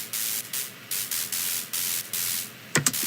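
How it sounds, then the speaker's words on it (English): Bright synthesized white noise, frequency modulated by a granular wavetable synth, comes in short rhythmic bursts of hissing static with gaps between them. A few sharp clicks sound near the end. "It's a bright white, which is frequency modulated by a very granular wavetable."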